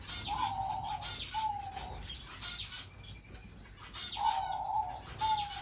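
A male pet bird, kept in a home setting, sings a chirpy song in repeated short bursts of tweeting, fairly close, with soft flapping and cooing-like sounds between phrases and no talking.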